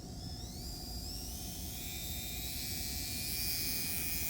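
An electric motor spins a disc up to 25,000 RPM, giving a steady close whir with thin high whines that slowly climb in pitch over a constant airy rush.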